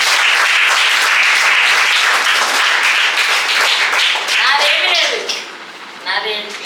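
Enthusiastic applause from a church congregation at a prize distribution ceremony, honouring the Sunday school teacher. Dense, steady clapping fills the room for about five seconds, then thins out into scattered claps as voices come through.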